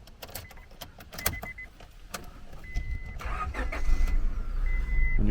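A 1997 Honda Orthia with a B20B engine starting up: a cranking whir, then the engine catches and settles into a steady idle. Interior chime beeps sound intermittently over the rising engine note.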